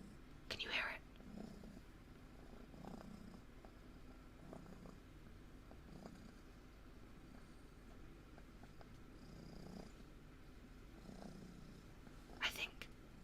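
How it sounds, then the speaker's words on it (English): A cat purrs softly and close by in a late-night quiet room, a faint low rumble that swells and fades in slow rhythmic cycles while a woman whispers gently over it. "She's purring louder."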